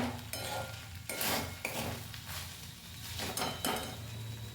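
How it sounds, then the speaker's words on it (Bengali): Cooked rice stirred in an uncovered pot for a Jagannath kanika bhog offering, with repeated scraping and knocking strokes of a spoon against the pot, close and steady, with no talking. "2-4 বার নাড়াচাড়া করে নিয়ে দেখে নেব সেদ্ধ হয়েছে কিনা"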